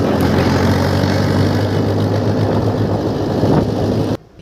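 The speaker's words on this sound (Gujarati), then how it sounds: "આ જો બશીર બેસો છે ને હું ટ્રેક્ટર ચલાવું છું" Tractor engine running as it is driven on a farm, a loud continuous droning hum with a strong low tone, cutting off abruptly at the end.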